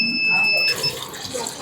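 Water fills a tank in a school science model, running as a steady rushing and splashing flow, with a thin electronic beep tone sounding over it at the start.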